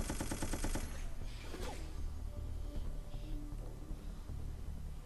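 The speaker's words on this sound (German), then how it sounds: "Du siehst ja, wo der Schuss herkommt." Gunfire in the video game Resident Evil: Operation Raccoon City, a rapid burst of shots at the start followed by faint scattered shots and game ambience, fairly quiet overall.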